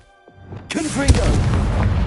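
A Confringo explosion spell in Hogwarts Legacy bursts after a brief tonal lead-in, its loud booming blast spreading into a sustained crackling roar that fills the rest of the moment.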